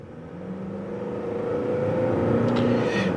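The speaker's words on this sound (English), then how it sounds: "let's do another test drive to see if power is restored and if the engine came back alive. So we're test driving the vehicle again, and let me hit the throttle." Car engine on a test drive building steadily as the throttle is pressed, a close rising hum and growl that swells in loudness over a few seconds.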